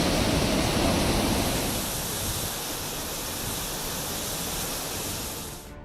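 Water released from the Kabini reservoir makes a loud continuous roaring rush that eases slightly before fading out.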